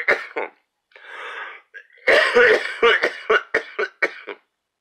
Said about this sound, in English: I have this horrible cough.